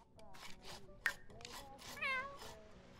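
A cat meows in The Sims 4 while wrecking something in the game, a drawn-out, wavering meow near the end over game music and faint background sounds.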